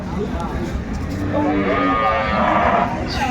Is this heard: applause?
no